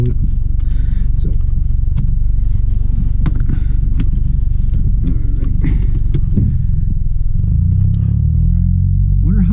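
A car's engine rumbles steadily up close as it drives along, with road noise and occasional clicks and knocks throughout.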